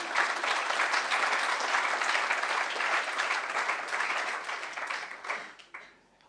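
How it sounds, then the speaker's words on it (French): An audience applauds a newlywed, with steady, dense clapping that holds for several seconds before tapering off into a few scattered claps. "Un applaudissement."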